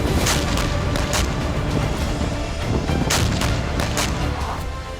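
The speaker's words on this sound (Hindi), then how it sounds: "रशियन आर्टिलरी भी लगातार यूक्रेनी सैन्य ठिकानों को निशाना बना रही है।" Russian artillery fire pounds Ukrainian military positions, a dense rolling series of heavy booms and blasts that overlap into continuous rumbling thunder without pause.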